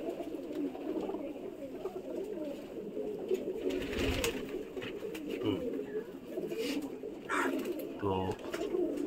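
Domestic pigeons coo steadily in a loft after being bathed, a low, continuous layered murmur from several birds nearby, with a few brief louder sounds and a person's voice in the background.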